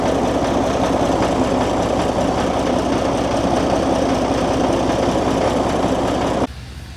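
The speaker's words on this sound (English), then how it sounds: "And this engine runs on diesel" Diesel locomotive engine at Beamish Museum idling with a steady, loud, rhythmic low chugging throb that holds constant and then drops away abruptly near the end.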